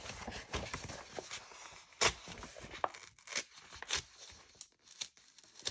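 Plastic wrap on a lemon-themed birthday calendar is cut and pulled away in a run of sharp tearing and crinkling bursts, close and fairly quiet, with irregular rustles between the louder rips.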